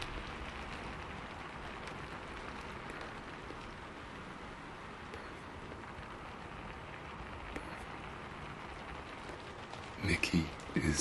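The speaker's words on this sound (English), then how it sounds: "it's pelting down with rain outside" Heavy rain pelts down outside in a steady, soft hiss of drops, with a louder burst of close crackling taps near the end.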